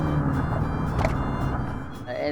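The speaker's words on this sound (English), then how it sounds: "This is a great car to drive because you can hear the engine roaring, that sound." Alfa Romeo Alfetta engine running with a steady low rumble that stays fairly loud and constant throughout, heard close by with no one speaking.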